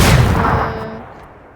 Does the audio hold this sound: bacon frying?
no